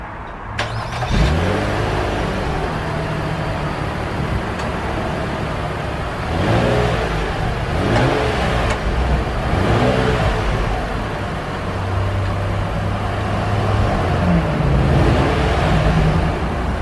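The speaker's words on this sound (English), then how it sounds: "I'm gonna go ahead and get in and start it. I'm gonna give y'all this exhaust note real quick." A 2019 Infiniti QX60 SUV with a single exhaust starts, then its engine is revved in several swells, a close, steady exhaust drone rising and falling throughout with no talking.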